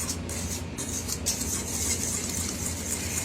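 Yellow cake mix batter being mixed in a bowl, a steady close wet stirring and soft scraping that runs without a break.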